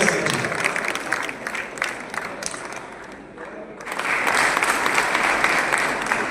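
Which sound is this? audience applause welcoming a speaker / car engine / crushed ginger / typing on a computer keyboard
audience applause welcoming a speaker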